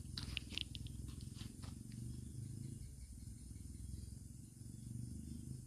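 A cat purrs steadily and close up, a soft continuous rumble, with a few faint high rattling ticks near the start.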